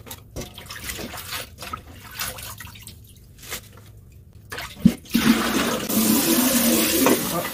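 Bean vermicelli is rinsed under running water at a kitchen sink: scattered drips and light splashes, then a louder, steady gush of flowing water in the last seconds.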